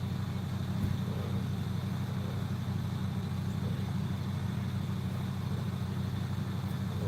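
A noisy truck engine idling close by at a wood-carving session, a continuous low, even rumble that holds steady for several seconds with no talking.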